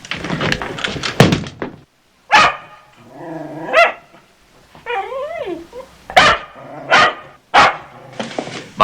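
A dog barks sharply several times in short bursts with pauses between, close and loud, mixed with a growl-like snarl and thumping noises in a tense drama scene.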